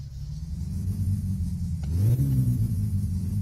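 A car engine in the game My Summer Car cranks and catches with the choke pulled, a low rumbling idle that rises into a rough, revving whir partway through, close and steady with no talk.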